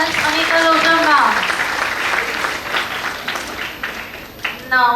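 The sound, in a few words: audience applause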